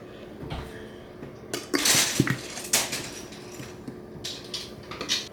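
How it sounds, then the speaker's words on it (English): Dry ingredients and flour are mixed in a large bowl for Christmas baking, with close clinks and scrapes of a utensil against the bowl coming in irregular bursts. "We're just gonna mix our dry ingredients in here."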